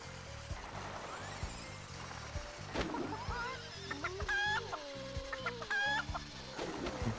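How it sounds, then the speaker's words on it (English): A chicken clucks repeatedly in Sly Cooper: Thieves In Time, with bright rising squawks in the middle and end, over a rhythmic low music loop. "It's just a chicken."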